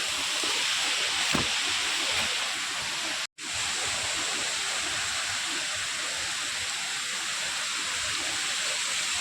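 Ozar waterfall at Bhiravande in Kankavli pours in a continuous steady roar, with one brief dropout partway through.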